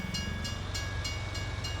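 Steady low rumble of a train in Farming Simulator 19, with faint rhythmic clicks recurring about every third of a second, heard alone without talk.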